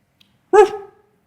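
A small dog gives one short, sharp yip-like bark, close and loud, against otherwise near silence.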